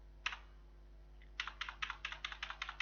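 Typing on a computer keyboard while entering a ledger in Tally Prime accounting software: one lone keystroke, a pause, then a quick run of about a dozen crisp, close key clicks in an otherwise quiet room.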